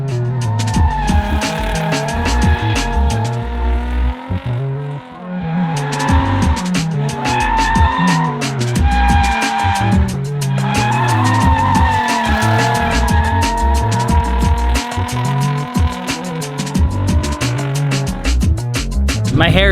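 Tires squeal and skid as a car drifts through corners on Ebisu Circuit, a long continuous loud screech with a revving engine rising and falling underneath, steady and close throughout.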